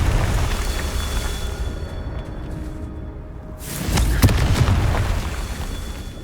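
Confringo spell explosions in the Hogwarts Legacy video game, with loud rumbling booms that briefly drop away, then a fresh blast and crackling burst near the end.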